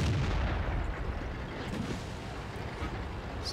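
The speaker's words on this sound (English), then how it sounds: "Something's still shooting at me." Tank cannon fire in World of Tanks during an IS-6 Tier 8 premium heavy tank battle against a T-44 and a Jagdtiger: a dense, rumbling low boom and roar that rolls on steadily for several seconds, with no talking.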